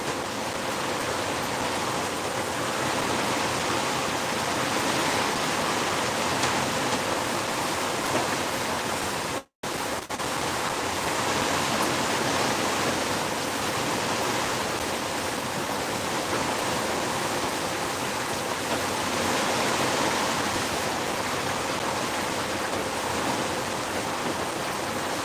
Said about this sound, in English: the rain sound is a bit big